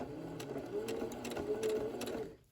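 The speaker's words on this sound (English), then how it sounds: "And then I'm just gonna sew" A sewing machine stitches a seam across wrap pants, a close, quiet rapid mechanical whirring and clicking that runs steadily for about two seconds, then stops.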